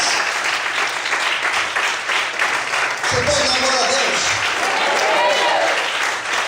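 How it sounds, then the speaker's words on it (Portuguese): A church congregation applauds loudly and steadily throughout a sermon while a preacher speaks in Portuguese over the clapping. "Pode aplaudir ao Senhor bem forte."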